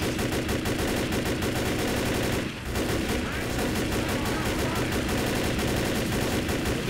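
Rapid, continuous automatic gunfire from the Left 4 Dead zombie shooter, loud and close, firing in dense bursts with only a brief pause partway through.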